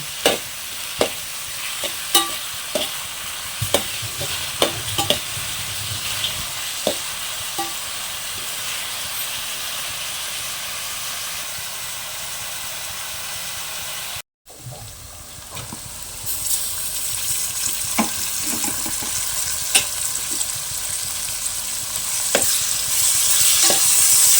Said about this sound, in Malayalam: ഉള്ളി കുറച്ച് വാടി വരട്ട് വെളുത്തുള്ളി ഇഞ്ചിയും പച്ചമുളകെല്ലാം എന്നിട്ട് നമ്മൾ തക്കാളി ചേർത്ത് കൊടുത്താൽ മതി